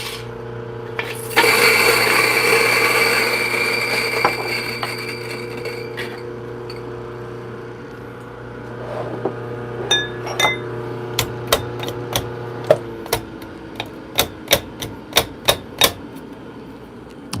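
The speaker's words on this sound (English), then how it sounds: "I'm going to start with EK43 using the Bricks Breaker." An EK43 coffee grinder whirs loudly, grinding coffee beans for a few seconds and then winding down, followed by a series of sharp metallic taps and knocks.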